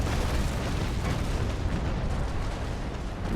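Ship cannons firing a broadside in Naval Action, the frigate Surprise engaging Cerberus and Mercury, heard as a dense, sustained roar of rumbling blasts blending into one continuous thunder.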